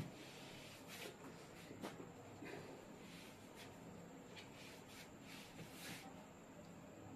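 Dry, even rubbing of an eraser wiping writing off a board during a lesson on resistors in series and parallel, a soft continuous scrubbing with a few louder strokes, close and alone with no talking.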